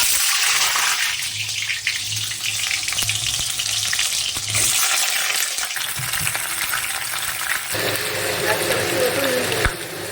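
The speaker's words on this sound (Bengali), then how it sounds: "পটলটা মোটামুটি ভাজা হচ্ছে" Whole pointed gourds (potol), slit down the middle and rubbed with salt and turmeric, fry in oil in a wok with a loud, steady sizzle and occasional stirring scrapes. Someone speaks over it.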